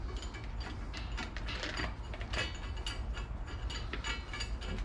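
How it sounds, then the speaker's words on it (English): A spring compressor tightens the coil springs on Bilstein B4 shock absorbers for a Mini Cooper S R53, making a steady, close metallic ratcheting and grinding with small repeated clicks. "so now we've got the springs tightened up again"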